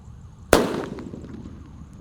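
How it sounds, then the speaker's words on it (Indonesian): A blue mercon bledek firecracker buried in the ground goes off with a single loud, sharp bang and a short decaying rumble, then quiet. "Lanjut kita akan menyalakan mercon bledek guys, yang warna biru ini"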